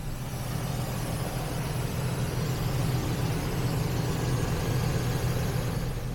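A Chevy truck engine runs steadily after being revived, a continuous low rumbling idle heard up close with no voices over it.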